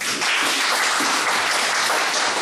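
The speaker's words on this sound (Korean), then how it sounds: "박수 한번 해주죠" Audience applause at a lecture, a short burst of dense clapping from a crowd, loud and even from start to finish with no voices over it.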